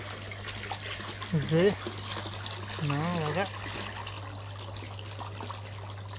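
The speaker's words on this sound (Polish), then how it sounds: "Dobra, pompa leci." A pool pump driving water through a pool vacuum hose gives a low steady hum with light trickling, while someone speaks twice over it.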